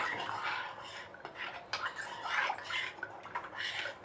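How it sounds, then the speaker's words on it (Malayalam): An oil mixture stirred in a cooking pot, with soft metallic scrapes and clinks of a utensil against the pot coming in irregular strokes, close and fairly quiet. "ഇനി ഇതങ്ങോട്ട് നമുക്ക് ഇളക്കി കൊടുക്കാം."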